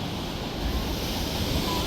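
Sea waves surge against the cliffs at Nusa Penida, Bali, a steady loud wash of surf mixed with wind buffeting the microphone, with no voices over it.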